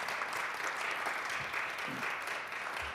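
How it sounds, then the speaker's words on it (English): An audience at a racial justice panel discussion gives steady, dense applause, held at an even level for the whole stretch. "can you also just join me in giving a round of applause to Justice"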